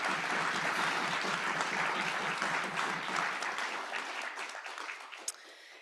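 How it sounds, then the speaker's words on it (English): Indoor audience at a human rights awards ceremony breaking into steady applause, loud at first and then tapering off as the clapping fades near the end. "Can we have a hand of applause for that?"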